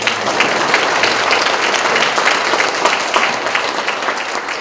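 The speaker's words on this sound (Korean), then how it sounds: "이럴 때 박수가 나와요" Continuous, dense applause fills the hall from a forum audience at a Gangwon semiconductor industry event, an even wash of many hands clapping at close range throughout.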